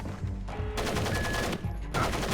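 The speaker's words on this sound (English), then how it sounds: "Somebody's shooting at me" Gunfire in Splinter Cell Pandora Tomorrow: quick automatic bursts, close and fairly loud, arriving in two or three clusters with brief gaps between them.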